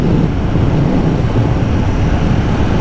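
KTM Super Duke 1290R Evo motorcycle on its stock exhaust, a steady, loud, continuous engine and intake roar with wind rush, sustained at speed throughout without pause.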